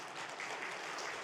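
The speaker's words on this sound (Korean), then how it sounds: "감사의 박수 드립니다." Church congregation applauding during a Korean Sunday worship service, a steady wash of clapping hands with no pauses, held at a moderate level for the whole moment.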